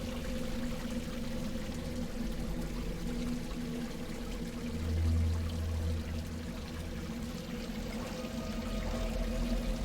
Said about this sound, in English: The runnel washed it down even further